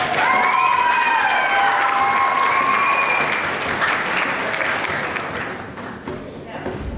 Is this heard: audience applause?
yes